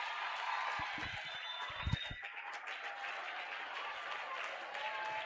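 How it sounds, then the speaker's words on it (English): Audience applause at an International Women's Day event at COOU, continuous hall clapping with a few louder nearby claps and some thumps early on, slightly distant. "I hope this applause is from your hearts"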